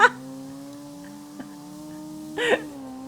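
Steady drone of a car engine in the CarX Drift video game, holding an even pitch throughout, with a brief louder burst near the end that fits a tire squeal or rev; a faint voice or two sits underneath.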